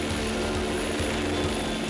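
A German police helicopter drones as a continuous, loud rotor-and-engine roar, steady and close throughout.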